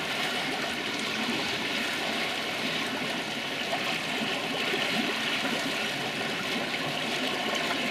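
Water swirls and churns steadily inside the filter chamber of a Nexus koi pond filter, a continuous close rushing, sloshing wash with no pauses.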